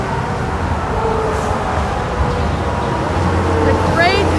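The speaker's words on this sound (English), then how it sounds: "It's a little noisy because of all the cars." Steady car traffic roars along a busy road beside the Hudson River walkway, a constant broadband rumble with passing vehicles, and people talk over it.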